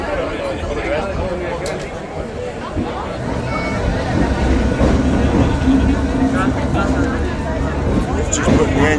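Railway sounds at a busy Mallorca station on the Soller line as the engine is moved to the front of the train: a low rumble and metallic clanks beneath constant crowd chatter, swelling louder in the second half.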